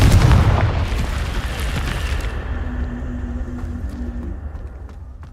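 Confringo fire spell in Hogwarts Legacy, a loud explosive boom at the start that fades into a long rumbling, crackling tail with a faint lingering hum.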